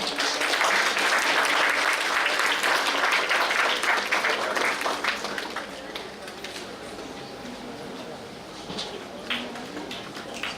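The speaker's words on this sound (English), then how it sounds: "A round of applause for him" An audience at a medical college lab inauguration applauds the chief guest, loud dense clapping for about five seconds that then thins and fades into scattered claps and room murmur.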